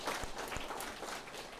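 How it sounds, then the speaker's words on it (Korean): A church congregation at a Saturday prayer-meeting Mass claps for a moment, a soft, fairly distant patter of many hands with a couple of sharper claps, heard without speech. "박수 한번 쳐야 되겠죠, 여러분?"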